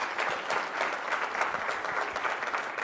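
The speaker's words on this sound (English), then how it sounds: "Let's once again give a huge round of applause," Audience applause at an Amway corporate event in India, a dense, steady wash of many hands clapping at a moderate level throughout, with no voices rising above it.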